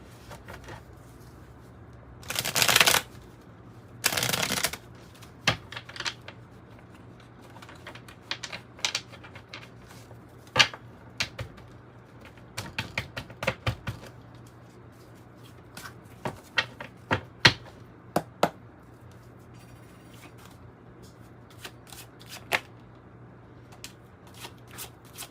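Tarot and oracle cards shuffled and pulled, with two sharp bursts of fast riffling followed by scattered crisp snaps and taps of single cards, close and clear in a quiet room.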